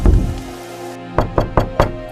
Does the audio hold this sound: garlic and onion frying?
no